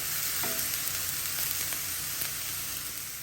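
Mushrooms and garlic grilling in a pan give a steady, close hiss of sizzling fat with a few small pops, continuous and alone without any voice.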